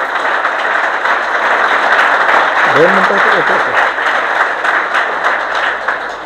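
A Marathi lecture audience applauds loudly and continuously, the dense clapping lasting throughout while someone speaks briefly over it.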